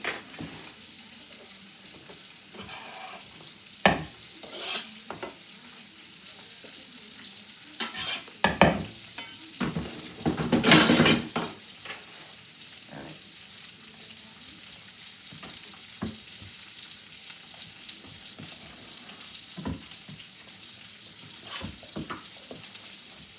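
Onions and garlic frying in a home kitchen pan as they are stirred, a low sizzle broken by sharp scrapes and clatters of the utensil, with one louder stretch of stirring midway.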